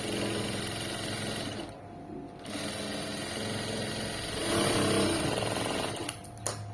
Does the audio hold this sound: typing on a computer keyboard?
no